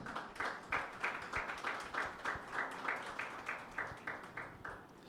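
A church congregation claps for Jesus in a steady, rhythmic beat of about three claps per second. The clapping sounds moderately distant and continues for several seconds.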